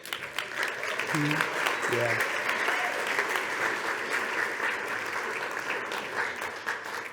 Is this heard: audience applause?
yes